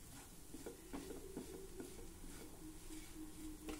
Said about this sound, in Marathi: डाळ परतत असताना यात होत असलेल्या गाठी गुठळ्या या प्रकारे उलटण्याच्या साहाय्याने मोडून